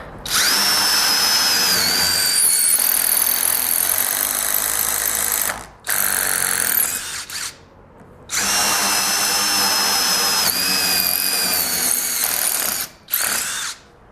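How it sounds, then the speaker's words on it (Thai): Loud, close whine of a Kyocera cordless impact driver drilling in two long bursts, with a brief pause and short stop-start revs between them; no talking. "ไขควงกระแทกนะตอนนี้นะ โอเคนะครับ เดี๋ยวเราลองเจาะกันดู"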